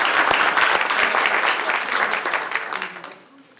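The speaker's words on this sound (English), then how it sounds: "How about another big round of applause for the Evans brothers" Audience applause at a city council meeting for two brothers being honored; a crowd claps briskly and loudly, then the clapping thins and fades away near the end.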